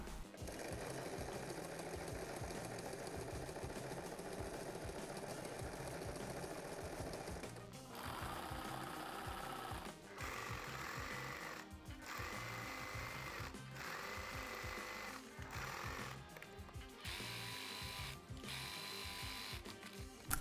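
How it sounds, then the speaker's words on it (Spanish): A domestic sewing machine stitches trouser pockets along the side seam in quick mechanical bursts, a rapid clatter that starts and stops several times with short pauses between runs, close and fairly quiet. "voy a coser los bolsillos, cada uno en su lado, por el lateral, por la costura lateral"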